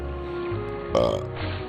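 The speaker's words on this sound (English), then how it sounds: "Pardon my burp." A single loud burp lasting about a third of a second breaks over steady background game music from Kingdom Hearts.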